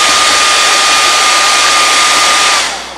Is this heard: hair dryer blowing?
yes